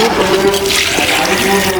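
Water being poured in a home kitchen while crab curry is cooked, a continuous close splashing pour running throughout, loud and steady with a faint voice underneath.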